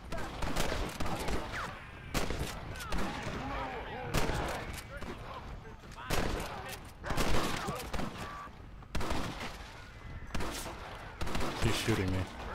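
Repeated bursts of gunfire in Red Dead Redemption multiplayer, loud and clustered in volleys across the whole stretch, with someone talking over the shots.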